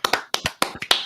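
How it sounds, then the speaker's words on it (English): Hands clapping quickly in a small room: about eight sharp, close claps in an uneven rhythm, loud and crisp with short gaps between them. "Let's just clap real quick."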